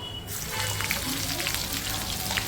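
Mustard seeds, chilies and garlic frying in hot oil make a dense, hissing sizzle that starts abruptly and stays loud and close for the rest of the moment.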